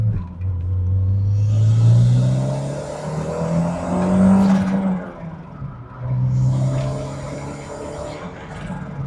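A Toyota MR2 sports car of about 200 horsepower drives past with a close, loud engine note that rises and falls through revs and gear changes, a deep rumbling tone throughout.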